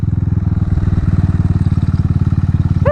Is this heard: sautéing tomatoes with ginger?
no